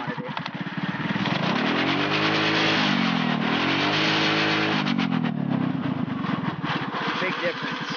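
A modded Mini-Baja off-road kart engine revs up and down repeatedly, close and loud, in rising and falling sweeps over a steady engine drone.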